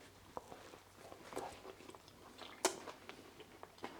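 Close, quiet chewing and crunching while someone bites into an eggplant and zucchini sandwich with crunchy breadcrumbs, with soft, irregular crunches and no talking.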